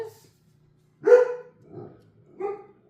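Dogs bark at a postman riding past on a motorbike, three separate barks, the first loud and sharp, the next two softer, each followed by quiet, close by in a home.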